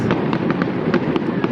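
Fireworks bursting over a riverside, a string of sharp pops and crackles roughly every few tenths of a second over a dense, steady roar of distant booms and crowd noise.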